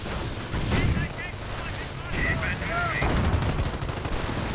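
Rifle shots, mortar blasts and .30 caliber machine gun bursts in a World War II strategy game battle between German stormtroopers, grenadiers, a Tiger tank and StuG assault guns, rapid gunfire crackling continuously with occasional louder booms and ricochet-like whines.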